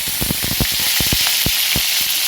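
Fish frying in smoking-hot oil, a loud steady sizzle with popping and crackling spatters throughout.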